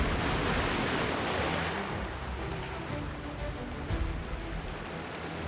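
Ocean tide waves wash over sand on a beach in a continuous broadband hiss, loud and close at first and then easing slightly, with no voices.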